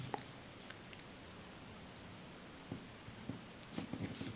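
Pen scratching across paper during a class 10 coordinate geometry lesson, a faint, steady writing scrape with a few soft taps and strokes near the end and no talk.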